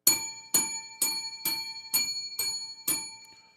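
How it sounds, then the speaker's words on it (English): A ringing bell struck seven times at a steady, roughly half-second rhythm, each bright metallic clang sustaining and decaying before the next hit, close and clear with no talk. "I could bang that bell all the way until Sunday"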